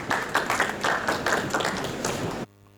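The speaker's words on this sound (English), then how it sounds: "Please, a round of applause" Audience applause at a climate summit session on ocean-centered interventions, a brief burst of many hands clapping at moderate volume that cuts off suddenly after a couple of seconds.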